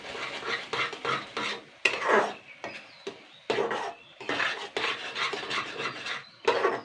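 Gobindobhog rice being stirred with ghee and a touch of yellow food colour, close scraping and rubbing of a spoon against the pot in repeated strokes with short pauses, heard alone.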